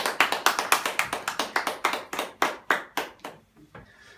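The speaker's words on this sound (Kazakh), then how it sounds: "Шапалақтап отырыңыздар енді." Hands clapping in applause from a small audience at a certificate award ceremony, a quick run of sharp claps that slows into a few spaced, louder claps before fading out.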